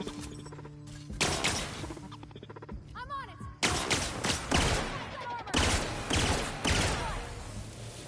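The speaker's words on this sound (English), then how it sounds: "Oh gosh, but they shooting at me." Enemies fire in the sci-fi video game The Outer Worlds, with bursts of loud, close gunshots and rapid volleys recurring through the scene, mixed with game effects and occasional voices.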